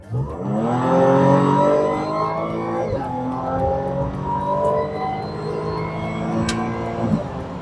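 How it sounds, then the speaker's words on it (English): Audi S4 accelerating hard with supercharger whine, engine tone climbing through two gear changes, a loud close rising howl and drone. "nothing beats the supercharger whine"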